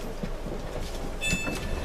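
An electric train rumbles and hums while slowing into Glasgow Queen Street low level station, with brief metallic squeals and a rising whine near the end.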